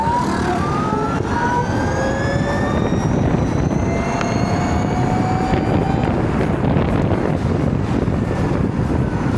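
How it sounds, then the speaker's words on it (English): An Ather 450X electric scooter, about 6 kW and 25 Nm, launches hard on a gravelly surface, its whine rising steadily in pitch over strong wind roar, loud and continuous, with no talk. "Probably I'll just stop and show you the acceleration of this scooter, which is very crisp."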